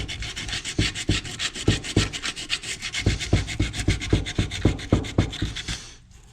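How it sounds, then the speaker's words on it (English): Sandpaper rubs by hand across the plastic body of a Honda TRX 450ER ATV in steady, rhythmic back-and-forth strokes, close and fairly loud, with no talking before the sanding stops. "I think I'm going to do that now with some sandpaper"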